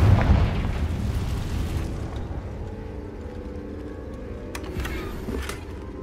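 A Confringo fire-blast spell explosion in the video game Hogwarts Legacy, a single heavy boom at the start that decays into a low rumbling tail, with faint small crackles and pops afterward.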